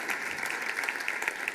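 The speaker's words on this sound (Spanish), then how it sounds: "Que no paren los aplausos, por favor." A brief burst of audience applause at a metaverse round-table event, dense, fairly soft clapping from a crowd with no voices over it.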